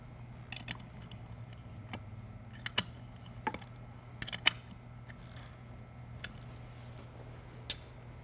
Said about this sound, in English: We're going to use a 7/16 wrench to tighten the operating handle bolt.